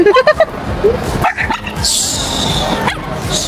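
A cluster of sharp dog barks at a pet park opens the clip, followed by more distant yips and a whimper over a steady background hiss.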